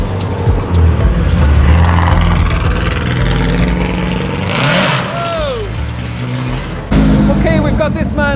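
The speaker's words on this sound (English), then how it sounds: "Just waiting for the engine to warm up." A 2001 Peugeot 206 Group A rally car, fitted with a roll cage, idles loudly and steadily while its engine warms up at an outdoor vintage and classic motor show, with people talking nearby.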